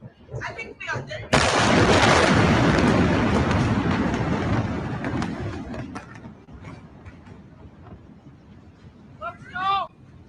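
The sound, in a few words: Tianjin explosion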